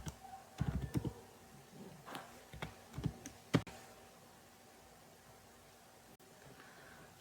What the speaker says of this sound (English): Now we can type any message.